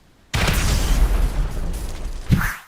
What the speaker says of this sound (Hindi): अबे ये धमाके की आवाज कहाँ से आई?